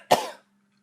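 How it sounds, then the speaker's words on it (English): A single sharp cough, close and loud, lasting about a third of a second and then giving way to near silence. "I have another cough,"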